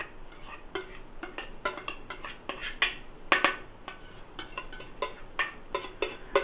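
Cooked rice tipped into a pan for fried rice, heard as a series of sharp metallic scrapes and clinks from a spoon against the pan in an uneven rhythm, close and fairly loud, without speech.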